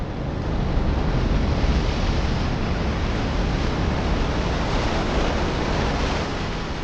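Ocean surf washes over a red-sand beach stained by iron-rich soil, a dense, continuous roar of breaking waves mixed with wind, loud and unbroken.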